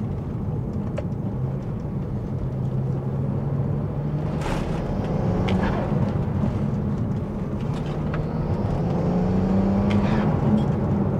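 A car on BC DS coilovers driven in sports and manual mode with traction control off: a steady engine drone rises and falls in pitch under constant road roar, with occasional faint clicks and knocks.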